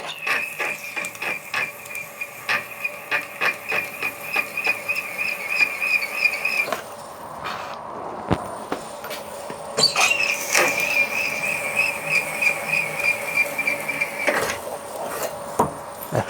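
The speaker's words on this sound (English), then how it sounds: "Or a 1/2" cobalt drill, we'll try that." A 1/2 inch cobalt drill bit in a cheap Banggood drill boring holes for a caravan wheel lock, a steady high whine with rapid chattering, a brief pause midway, then drilling resumes loud and close.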